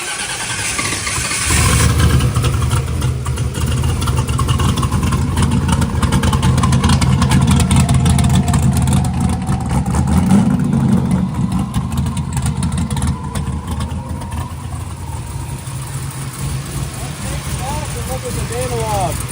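A No Prep 4x4 NASCAR-style race truck engine fires up after a brief start and settles into a loud, steady, rumbling run that continues throughout, with voices talking over it.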